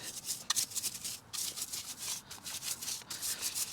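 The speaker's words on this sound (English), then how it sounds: "take out my nylon brush and we'll just, lightly kind of go like this" A nylon brush lightly scrubbing the exterior of a Chevy Colorado truck, a continuous close hissing rub in back-and-forth strokes with short breaks between passes, no speech.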